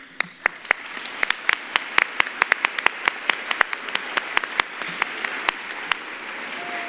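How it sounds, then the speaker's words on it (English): Small audience applause at a National Philanthropy Day live show, a modest, sparse patter of individual claps in an irregular rhythm, fairly close, thinning toward the end. "since you're applauding"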